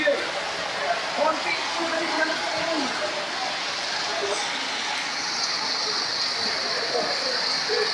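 Steady, heavy rain hiss during a flood in Meulaboh, Indonesia, fills the scene, with faint background rumbles and no clear voices.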